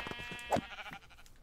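A Minecraft sheep gives one short bleat near the middle, clear over faint game ambience and a steady tone, with no talking.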